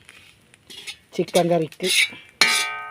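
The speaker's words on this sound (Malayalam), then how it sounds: "അങ്ങനെ ഞാൻ നല്ല തേങ്ങ വറുക്കുന്നു" Coconut roasting with curry leaves, cumin and turmeric in a pan in a hotel kitchen, a utensil clinking and scraping against the metal in short bursts while someone talks over it.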